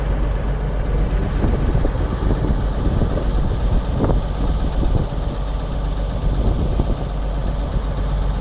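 A tractor engine idles steadily with a Busa KS 12-row rotary cultivator attached. It gives a continuous, fairly loud rumble outdoors with some wind noise, and no one speaks.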